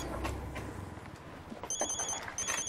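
Mobile phone ringing in the middle of an ojek motorbike ride at night, a repeating electronic ring tone with steady pulsing beeps arriving after a second and sitting over low road and engine rumble.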